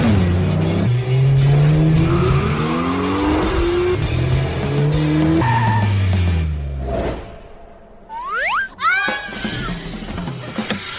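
Sports car arriving with a loud, revving engine rising through the gears, then tires skidding and squealing in several sharp, high screeches near the end, close and loud.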